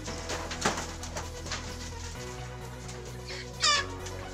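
Chickens and pigeons clucking and cooing at a rural racing-pigeon loft, with a steady low hum underneath and a louder chirpy burst near the end.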